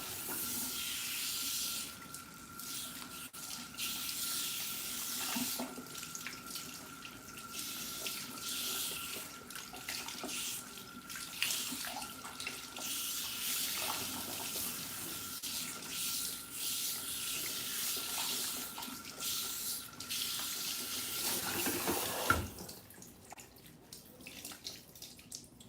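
Cool tap water runs steadily for over twenty seconds, rinsing a protein treatment out of hair at a sink, with a constant hiss and splash that cuts off near the end, followed by faint handling.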